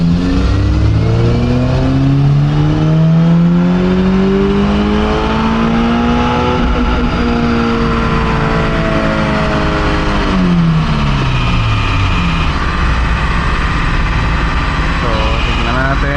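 A Subaru BRZ / Toyota GR86 engine on a dyno, climbing loudly through a sustained full-throttle run, dipping near the middle and pulling again at close range.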